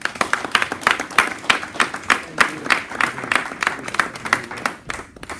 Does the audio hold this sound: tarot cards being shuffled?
no